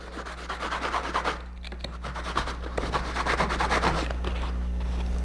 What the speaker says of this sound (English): You know these old sanding sponges that lie around the shop?